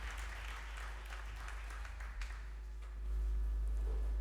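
A church congregation applauds steadily through a long, even stretch, with a low hum underneath and the clapping swelling slightly toward the end.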